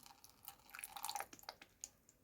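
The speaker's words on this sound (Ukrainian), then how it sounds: "І наливаю трішки небагато води, розведеної фітоспоріном." Water diluted with Fitosporin poured in a small amount into a cup holding seeds, heard as soft close drips and trickling splashes, quiet and uneven, with no talk.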